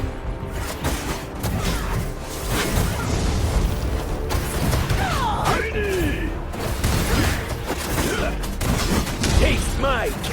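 Cannon fire in the Dragonheir: Silent Gods video game, several booming shots and crashing impacts mixed with battle effects and a game character's voice lines, fairly loud and continuous over about ten seconds.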